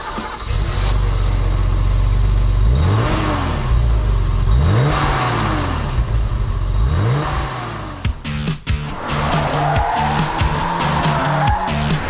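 A 1985 BMW M5 with 286 hp, on a test drive, revs hard in loud repeated rising sweeps that climb and fall back, before settling into a steadier engine drone near the end.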